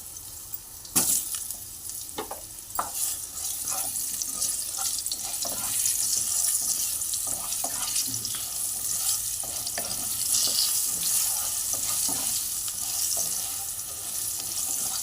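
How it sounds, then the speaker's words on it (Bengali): Potatoes frying in oil for a pumpkin, potato and shrimp dish, a steady bright sizzle running throughout with repeated clinks and scrapes of a spatula in the pan, close by and with no one talking. "এইবার এক এক করে আমি আলু আলুগুলোকে ফার্স্টে ভেজে নেবো"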